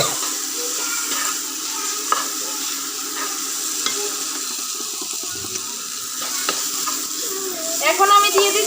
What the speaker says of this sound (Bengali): 1 চামচ জিরে গুঁড়ো, আর হাফ চামচের কম লঙ্কার গুঁড়ো দিয়ে ভালো করে মশলাটা ভেজে নেব।